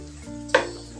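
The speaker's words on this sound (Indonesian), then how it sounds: "Aduk-aduk. Kita campur semuanya." A stir-fry of egg, onion, scallion and shrimp paste in a pan, giving a brief sizzle with a sharp clack of the utensil as it is stirred.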